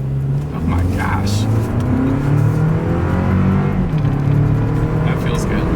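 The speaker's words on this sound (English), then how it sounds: "let's see how quickly we can get our new 2026 Toyota Land Cruiser here up to speed" A 2026 Toyota Land Cruiser accelerates hard in sport mode, its engine note climbing steadily under a loud, continuous cabin roar while people talk and exclaim over it.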